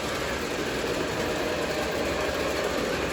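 A continuous close mechanical whir and rattle comes from a small twin-motor model locomotive hauling a line of rolling stock, even and unbroken from start to finish.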